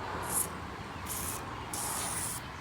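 Silicone spray from an aerosol can is applied into a window trim channel while installing trim on a classic Volkswagen: three short, close hissing bursts separated by brief pauses, with no talking.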